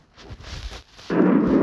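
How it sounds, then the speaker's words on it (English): A lightning strike in a class battle royale video game lets loose thunder, a low rumble that breaks into a sudden loud, close crack and a sustained roar, heard alone. "No, I seriously got struck by lightning."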